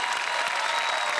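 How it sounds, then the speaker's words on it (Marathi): An audience at a Marathi comedy show claps loudly and continuously in a brief, dense burst of applause. "त्यांच्यासाठी खरंच जोरदार टाळ्या."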